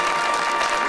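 Studio audience at an Eid special TV show clapping, a brief dense burst of applause filling the moment.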